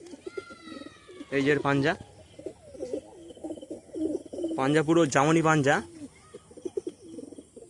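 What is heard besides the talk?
pigeons cooing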